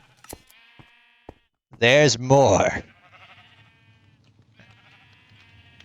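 A Minecraft sheep in a wool farm bleats twice in quick succession, loud and close, between brief bits of talk and soft game tones.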